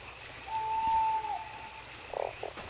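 A frog croaks in the video game Fran Bow, with a sustained tonal call followed by a couple of short croaks over a quiet, hissy game background.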